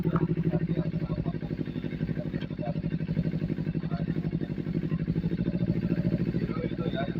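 A Kawasaki Ninja 250 fitted with an SC Project exhaust idling and burbling steadily, a loud close engine note with a rapid even pulse throughout and no talk over it.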